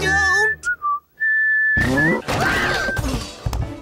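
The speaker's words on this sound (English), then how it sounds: "Makes me feel like whistling another cowboy tune." A cartoon cowboy whistles a short cowboy tune in bright, bending notes, then the whistling is cut off by a loud crash and clattering smash.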